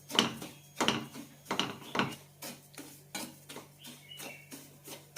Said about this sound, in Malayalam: നല്ലൊരു റോസ്റ്റഡ് സ്മെല്ല് വരുന്നവരെ വറുത്തെടുക്കണം.